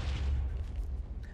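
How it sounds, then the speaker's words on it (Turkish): A deep, rumbling boom of a house exploding in Minecraft fills the clip, a heavy low roar that rolls on and slowly breaks up, with no voices over it. "Patladı ev."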